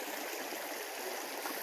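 Steady rushing stream water flowing over stones at a river crossing, a continuous close broadband wash with no break and no voices.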